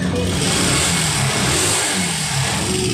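A Honda TMX 125 Alpha motorcycle with a slipping clutch lining is revved at full throttle, giving a loud, steady engine roar close by for the whole stretch.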